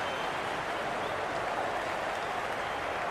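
Steady broadband roar of a large stadium crowd in the Cricket 26 video game during an Australia match, a continuous wash of cheering and applause with no distinct voices.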